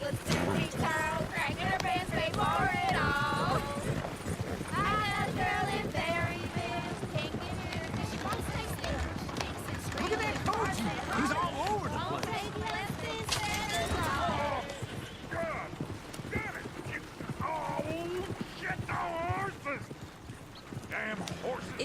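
Horse hooves clip-clopping in Red Dead Redemption 2 on the streets of Valentine, a steady rhythmic patter running throughout beneath continuous talk from men, with a brief whinny-like cue amid the dense game soundscape.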